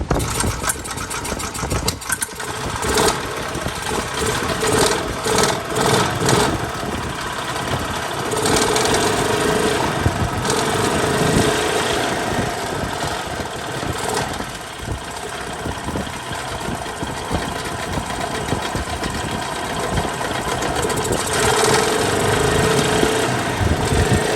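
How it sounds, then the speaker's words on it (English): A worn Hyundai golf cart engine runs steadily at a rough idle with a rattling, knocking mid-pitched drone and a few revs early on, fairly close and continuous throughout with no talk. "Let's hit the throttle, see if it fires back up."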